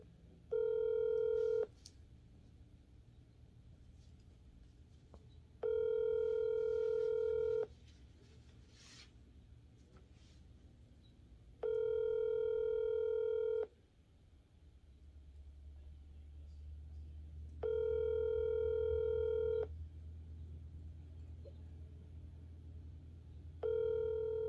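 Repeating telephone tones while placing a call, several steady buzzy bursts of about two seconds each separated by pauses of several seconds, with a low rumble underneath and no talk.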